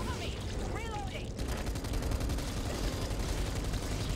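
Rapid gunfire in the zombie shooter game Back 4 Blood, a dense, steady burst of shots running loud and continuous for most of the clip, with a brief higher-pitched creature or effect sound near the start.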